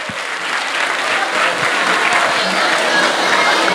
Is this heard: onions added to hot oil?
no